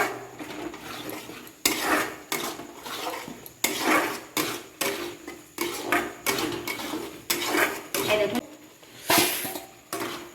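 Potatoes are stir-fried in a pan for an egg curry, with repeated bursts of metal spatula scraping and clanking against the pan in an uneven rhythm and a low sizzle between strokes, close and fairly loud.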